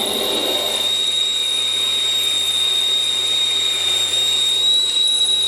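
A steady, loud high-pitched whine of a 14.5 mm drill bit boring continuously through metal on a lathe, with a constant low hum underneath and no pauses.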